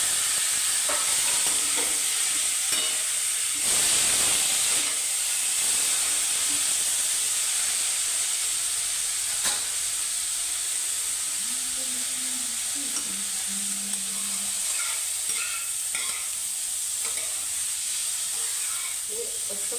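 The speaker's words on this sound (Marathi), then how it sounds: "हे बघा, असं चांगलं परतवून घ्यायचं आणि ही उकडलेली बावची त्याच्यामध्ये टाकून द्यायची" Boiled cluster beans are stir-fried in a hot pan, giving a steady, close hiss of frying with occasional scrapes and soft knocks of stirring, plus a faint low hum partway through.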